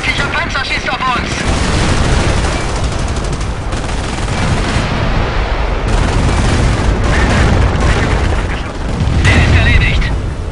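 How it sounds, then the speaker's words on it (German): An enemy tank's cannon fires in a tank combat video game, with heavy booming blasts over a dense, continuous roar of battle noise and gunfire, loud throughout. "Ein feindlicher Panzer schießt auf uns."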